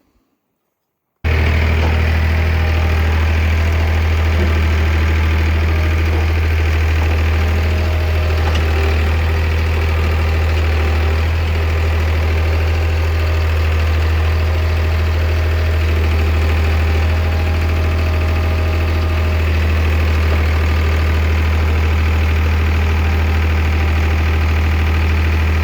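A tractor engine drones steadily while digging with the bucket for a fence installation, a loud close diesel rumble with a knocking idle character that holds unbroken after a brief silent start.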